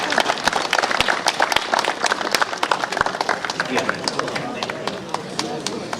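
Applause for football champions at a district championship award ceremony, a dense crowd clapping steadily and close throughout, with crisp individual claps standing out.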